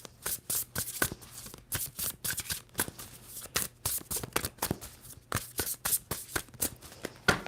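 Tarot cards are shuffled close up, a quick run of crisp riffling bursts repeating in an irregular rhythm with brief pauses between them.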